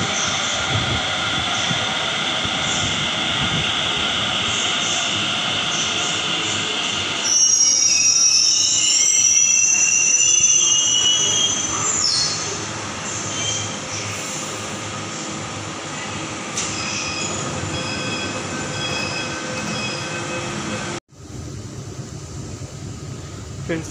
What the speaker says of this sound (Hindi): वेट करते हैं मेट्रो के आने का।